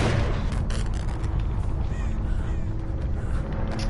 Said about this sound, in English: You have a crow around you, sir.